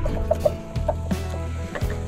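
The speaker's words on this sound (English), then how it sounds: "Them chickens love summertime." Chickens cluck close by outdoors in summer, a run of short, choppy clucks and a few higher calls that overlap in a busy little cluster.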